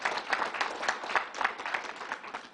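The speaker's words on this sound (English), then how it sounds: "Give the whole group and the National Guard a round of applause for what you're doing here." Applause at a fairground vaccination site for the staff and National Guard, a smaller group clapping with audible individual claps in an uneven rhythm, moderately close.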